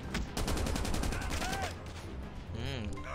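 Sustained rapid bursts from an RPD machine gun in the Call of Duty Mobile shooter game, a loud, dense rattle of automatic fire with brief gaps, ending in softer game effects and tones.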